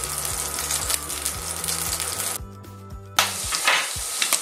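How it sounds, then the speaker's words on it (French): Butter sizzles and browns in a pan before chicken livers go in for pâté, a loud continuous close crackle over a low steady hum, broken by a short quieter gap and then resuming with a sharp burst. "on attend que le beurre soit noisette"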